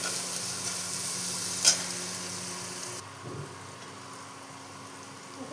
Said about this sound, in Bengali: হলুদ দিয়ে দেবো, দিয়ে মশলাটা আর একটু ভেজে নেব।